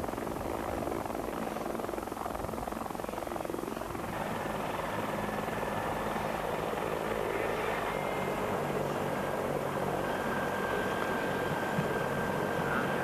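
Czech helicopters flying during Pope John Paul II's visit to Skoczów, Poland, a steady loud rotor and engine roar that fills the whole stretch without a break.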